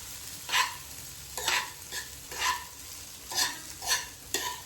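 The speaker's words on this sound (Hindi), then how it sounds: "इसमें हमें सब्जी और मसाले को अच्छे से मिक्स कर देना है, और इसको ऐसे ही 10 से 15 मिनट तक फ्राई करना है" Rice with vegetables and spices sizzling as it is stirred and fried in a pan, with about eight distinct scraping stirs in an irregular rhythm over a steady close frying hiss.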